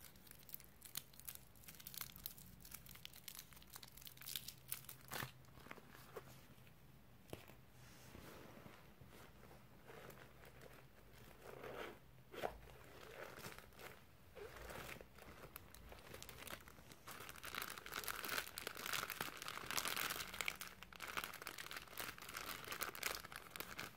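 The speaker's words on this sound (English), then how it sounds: "Toilet paper." Soft crinkling and rustling as a roll of toilet paper is handled close to the microphone, with irregular crackles and taps over a quiet background, while a voice speaks.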